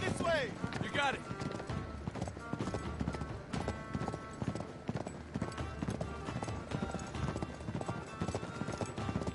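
Horses galloping in Uncharted 3, rapid rhythmic hoofbeats close and clear throughout, with a whinny near the start and voices talking over the clatter.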